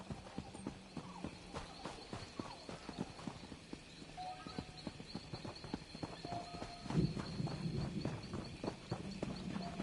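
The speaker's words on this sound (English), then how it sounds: "The best horses." Horse hooves clip-clop in a quick, steady rhythm on hard ground in the video game Elder Scrolls Online, with faint background music and ambience.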